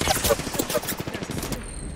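Rapid bursts of gunfire in the video game Apex Legends rattle off in quick succession, then cut off abruptly, leaving a thin electronic tone.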